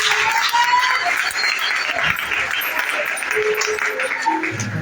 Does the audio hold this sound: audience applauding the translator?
yes